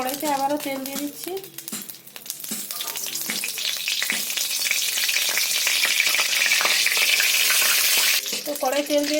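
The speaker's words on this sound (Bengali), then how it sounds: "তো আমি বেগুনটা এখন ভেজে নিচ্ছি।" Eggplant frying in oil in a wok, a loud close sizzle that swells and holds steady for several seconds, with a voice talking at the start and end.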